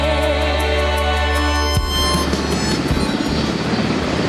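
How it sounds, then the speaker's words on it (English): Helicopters at New Orleans airport during the Hurricane Katrina evacuation, a loud steady rotor and engine drone with strong tonal hum that shifts partway through as one passes close, continuous with no talk. "There are a couple of helicopters behind me."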